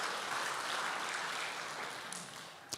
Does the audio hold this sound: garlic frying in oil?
no